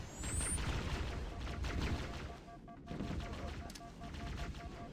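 Rapid automatic gunfire rattles in Halo: Combat Evolved on PC, dense continuous bursts with a brief gap midway, layered with game ambience and a few high electronic tones, fairly loud.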